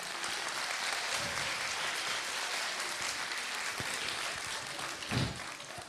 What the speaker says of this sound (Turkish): Onları kocaman alkışlayalım.